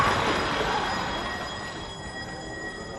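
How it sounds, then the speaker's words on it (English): A tram approaches with a steady, loud rumble of wheels on rails and a thin metallic squeal above it, ending in a sudden sharp burst. "Jedzie tramwaj, kierowca patrzy na telefon"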